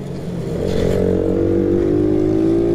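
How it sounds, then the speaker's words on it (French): A mini motorcycle engine at a mini moto race runs close by, struggling to breathe, climbing in pitch with a rough, uneven idle-to-rev drone, steady and loud throughout. "la moto de Julian fait du bruit. A du mal à respirer"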